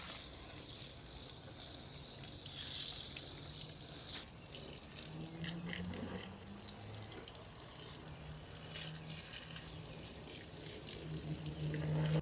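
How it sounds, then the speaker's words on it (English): Tap water runs steadily into a sink while hands are washed outdoors in a garden, a continuous close hiss and splash with faint movement sounds and no talk. "First I gotta wash my hands."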